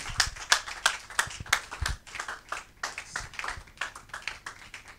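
A church congregation claps during a service, steady hand-clapping from a crowd with a few sharp louder claps in front, no voices.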